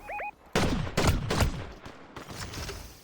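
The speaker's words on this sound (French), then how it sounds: "Je sais pas où ça tire exactement là." Fortnite gunfire as a rapid burst of several sharp, loud shots in quick succession, followed by fainter scattered shots trailing off, with a short electronic tone just before.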